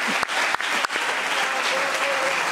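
A concert crowd applauds at a folk song performance in Marinaleda, dense continuous clapping with a few loud sharp claps near the start and a voice faintly audible underneath.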